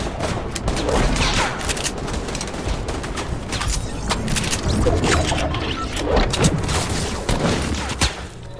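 Rapid gunfire in a Fortnite Team Rumble match, bursts of close, sharp shots firing again and again across the whole stretch with no talking.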